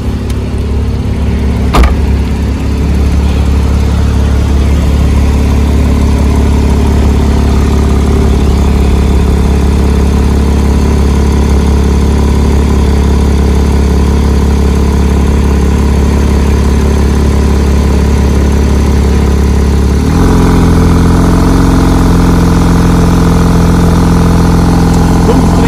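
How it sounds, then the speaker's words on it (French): A Porsche 991 Targa 4 GTS idles with a steady, loud low engine hum while its roof closes; the tone shifts and thickens briefly near the end. "C'est le temps que la Porsche met à se recapoter"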